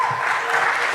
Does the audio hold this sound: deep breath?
no